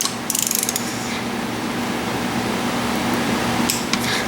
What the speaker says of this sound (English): let's go back and check the pattern one more time, real slowly with the wrench